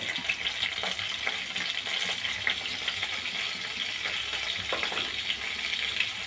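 Curry leaves and asafoetida sizzle in hot oil for a small onion sambar, a steady close crackle with soft scraping stirs of a spoon through the pan, no voices.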